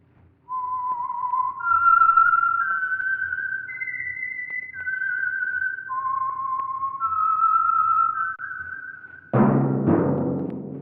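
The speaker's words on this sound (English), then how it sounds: "That whistle is your signal for the Signal Oil Program, The Whistler." A lone whistler carries a slow, sliding melody, the signature theme of the Signal Oil radio mystery show The Whistler. The notes rise and fall clearly and close up, then a sudden orchestral chord strikes at the end.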